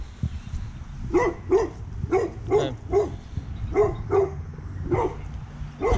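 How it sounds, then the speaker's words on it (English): Dogs bark outdoors in a garden, about ten sharp barks in an uneven series at moderate distance, with no talking over them. "you're gonna hear a bunch of dogs barking"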